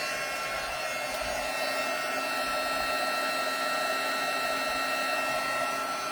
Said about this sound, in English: I find if I have my tool heated up before I start embossing, it just works a little bit better.